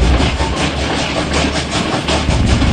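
A train rolls past on the railway, loud and close, with a steady heavy rumble and rhythmic clickety-clack of wheels over rail joints, continuous through the whole stretch with no voices.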